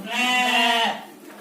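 A single loud, close bleat from a sheep in a goat and sheep pen, one drawn-out wavering call lasting under a second, then quiet.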